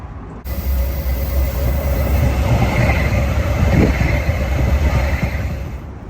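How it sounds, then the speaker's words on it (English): A train rolls past at Dealey Plaza in Dallas, a loud, steady rumble with rattling wagons and faint metallic squeal that swells in the middle and holds for several seconds, with no voices over it. "you're hearing trains go by"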